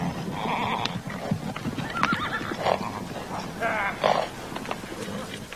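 Unadopted wild horses held for training at a prison neigh and whinny loudly, mixed with clip-clopping hooves and murmuring voices in the background.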